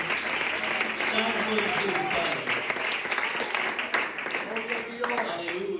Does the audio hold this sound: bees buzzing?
no